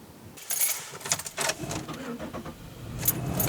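A Pontiac Aztek starts up close by, with keys jangling and clicking handling noises followed by the engine catching and settling into a low running hum.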